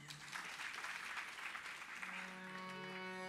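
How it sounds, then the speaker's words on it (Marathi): Audience applause at a Lavani performance, a dense, steady wash of clapping that fills the clip at moderate loudness, with sustained musical tones entering toward the end. "पुन्हा एकदा टाळ्या होऊन जाऊ द्या"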